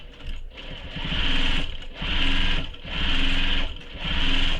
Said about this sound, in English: so baste this in place, and I'm going to keep my basting long